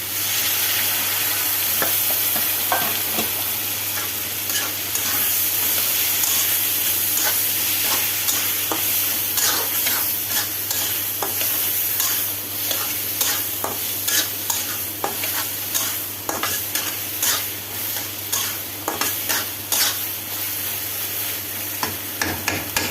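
Chickpea bhaji with ginger, garlic and spices sizzles in a pan while a spoon stirs and scrapes it. The close frying hiss is steady, and the stirring adds repeated sharp clicks that grow more frequent toward the end, with no voices.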